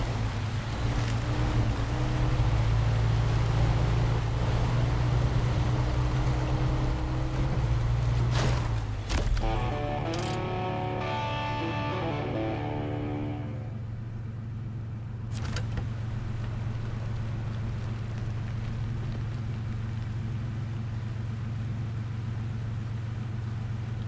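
The SnowRunner Longhorn Predator truck, a long-nose-hood rig, drones loud and steady, then shifts to a lower, quieter engine rumble partway through that holds to the end, with no talk.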